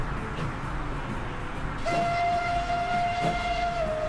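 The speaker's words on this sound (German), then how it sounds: "Und was macht der Zug, fährt der?" Train in the video game Train Fever rolling along with rumbling wheel noise, then a long sustained whistle blast joins midway, fairly close and loud.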